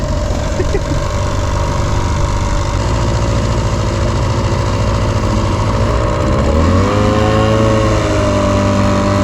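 A boat's outboard engine idles steadily, then revs up as the throttle opens near the end, the pitch rising and holding; loud and close throughout, with no talk.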